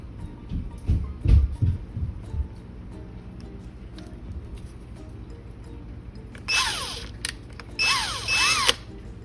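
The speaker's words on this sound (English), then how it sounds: "First we'll drill the holes." A power drill bores holes in a paper gasket for a Skilsaw 1616 chainsaw, two short whining bursts near the end after some handling clatter, close and moderately loud.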